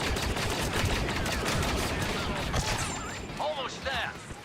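Dense, sustained gunfire in Star Wars Battlefront 2 crackles loudly as a continuous rapid fusillade, then thins out near the end as a voice speaks over it.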